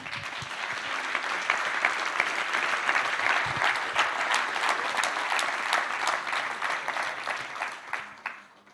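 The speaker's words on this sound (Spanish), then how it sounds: "Dale un aplauso al Señor." A church congregation breaks into sustained applause during a sermon, a dense wash of many hands clapping that swells and holds steady before tapering off near the end.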